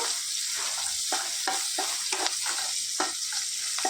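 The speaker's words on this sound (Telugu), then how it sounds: "మెంతి కూర కూడా వేసుకొని వేయించుకోవాలి" Onions and fenugreek leaves fry in a pan for a broad bean curry, giving a steady close sizzle with repeated scraping stirs spaced through the run.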